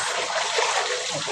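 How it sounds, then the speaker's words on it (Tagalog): Running water rinsing in a kitchen sink, a steady close splashing trickle that holds constant without pauses. "dito lang naman tayo sa lababo nagbanlaw eh"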